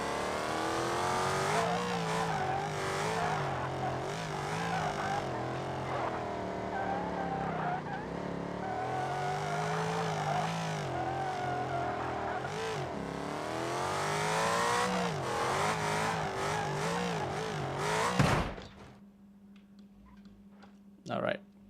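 A Ford Mustang in the BeamNG Drive driving game holds a loud, continuous engine drone with rising and falling revs for about eighteen seconds, then cuts off abruptly, leaving a low hum and one short bump.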